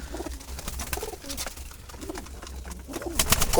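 Wild jalali pigeons coo softly and repeatedly in a backyard loft, their low burbling calls rising and falling over a busy, noisy outdoor background, with no talk.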